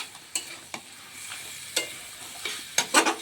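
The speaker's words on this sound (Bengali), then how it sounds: "আপনারা সবাই ভিডিওটা দেখুন কীভাবে মাংসটা রান্না করছি" Mutton kosha, a Bengali goat-meat curry, cooks in a pan with a soft steady sizzle, broken by sharp scraping clicks of a spatula stirring the meat, strongest near the end.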